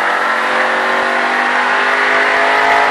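A race car on a track at full throttle, engine screaming loud and steady at high revs throughout, close and constant with no talk.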